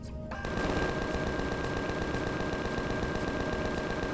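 Sentry gun turrets in the space survival game Empyrion Galactic Survival fire a dense, unbroken burst of rapid automatic gunfire, loud and continuous after a brief quiet start.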